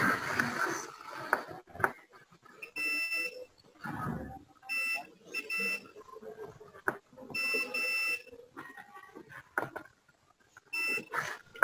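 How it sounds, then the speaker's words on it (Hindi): A multimeter emits repeated short, shrill beeps in uneven bursts during a capacitor check in a hardware class, sounding between stretches of people talking. "दूसरी साइड में बीप कर रहा है"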